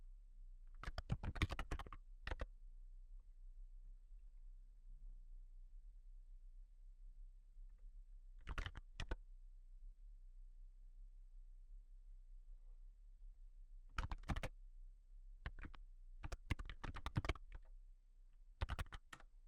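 Bursts of typing on a computer keyboard during a security demo, quick clusters of clicky keystrokes separated by pauses of near silence, close and fairly quiet.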